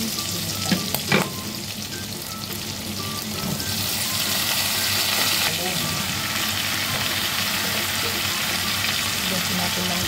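Onions sizzling in a hot pan for a stir fry of eggplant, string beans and minced pork, a steady frying hiss that grows louder after they drop in, with a few clanks of stirring.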